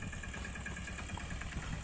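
A tractor engine runs steadily in a field where an irrigation channel is being dug, a continuous low mechanical drone with no pauses, heard alone at moderate, even loudness.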